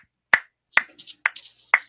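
A handful of sharp, isolated snaps or claps on a podcast set, four distinct hits spaced about half a second apart, close and dry with quiet gaps between.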